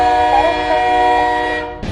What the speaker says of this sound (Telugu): రైలు అరవింద్ని గ్రామం వైపు తీసుకెళ్తోంది.